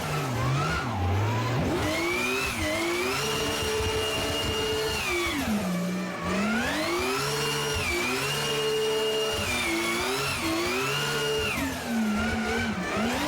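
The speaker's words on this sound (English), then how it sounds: "listen to the transmission" In a racing video game, a car's transmission gives a loud, high whine that climbs and drops with the shifting engine revs, continuous and unaccompanied by talk.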